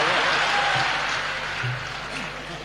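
An audience at a live Gujarati comedy program applauds in a dense, steady wash of clapping that fades slightly toward the end.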